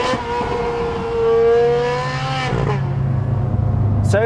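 A Ferrari 430 Scuderia engine rises in pitch under strong acceleration, then drops away at a gear change and settles into a lower drone, loud and close, before a short burst at the end.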